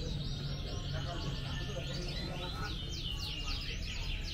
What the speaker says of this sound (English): A lot of birds again.